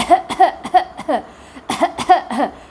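A series of short, sharp coughs in quick bursts, about eight or nine, with a brief pause midway; close and fairly loud.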